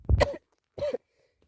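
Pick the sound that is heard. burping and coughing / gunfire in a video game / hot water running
burping and coughing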